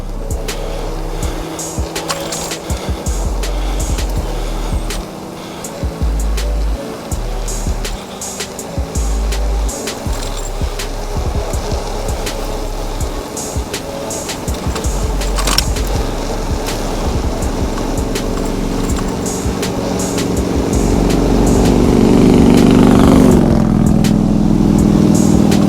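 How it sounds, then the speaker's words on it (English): A OneBot S6 e-bike coasts downhill with a continuous rolling rumble of tires on pavement and rushing wind that builds louder toward the end as speed increases, heard close with no talking. "let's coast down here and try to build up some battery"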